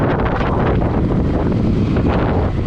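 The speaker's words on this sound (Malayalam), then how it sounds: "നല്ല കാറ്റടിക്കുന്നുണ്ട്, കിട്ടിലും കാറ്റാണ്" Loud, continuous roar of strong wind buffeting the microphone on a road ride near Kollam, with no pauses and no voices.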